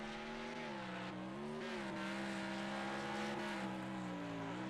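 Race cars running side by side down the main straight in the Wreckfest Trans-Am series at Hillstreet, engines droning steadily and shifting pitch together at moderate volume with no talk.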